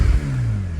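A 2022 Porsche 718 Boxster GTS 4.0 flat-six engine revs steadily, its low rumble holding strong and close for under a second with no voices over it.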